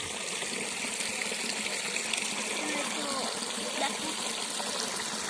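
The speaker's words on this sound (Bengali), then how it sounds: "এখানে একটা মিনি সাইজের ঝর্ণাও আছে।" A small mini fountain splashes water into a little pond, a continuous even rush of falling water heard up close without pause.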